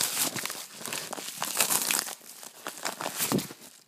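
Crinkly plastic toy packaging crackles and rustles as a paper receipt is tugged out of it, a run of close, uneven crumpling bursts with no talking.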